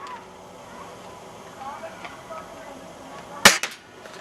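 One sharp crack from a CYMA M1 Carbine airsoft rifle rings out late, followed by a couple of quick, fainter clicks, after a stretch of quiet, low room noise.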